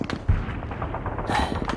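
Battle gunfire and artillery, with repeated sharp shots and heavier booms in an irregular burst over a rumbling background.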